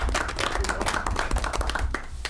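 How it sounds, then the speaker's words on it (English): A small round of applause at a school district board meeting, a handful of people clapping steadily for a couple of seconds in a room, close and moderately loud. "I would like to give a little round of applause for Brian"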